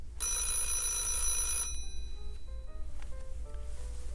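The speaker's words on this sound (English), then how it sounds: "somebody is calling on the Loft Kids Fest phone" A telephone rings once with a bright, sustained electronic trill lasting about a second and a half, then fades into a quiet room with faint scattered tones and no speech.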